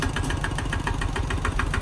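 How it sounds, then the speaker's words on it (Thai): An older farm tractor's engine, still in good running order, chugs steadily up close, its rapid rhythmic knocking loud and continuous without any voices. "รถไถยังไม่ใหม่ เครื่องยังดีอยู่ท่านผู้ชม"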